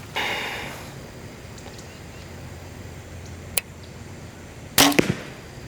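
An arrow shot from a PSE Sicario compound bow, a sharp release snap followed about a second later by a loud thwack into an outdoor target, set against quiet ambient background.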